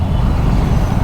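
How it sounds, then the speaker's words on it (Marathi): Morning road traffic in Pune heard from a moving motorcycle, a loud continuous low rumble of engines and wind noise with no distinct individual events. "सकाळी ट्रॅफिक."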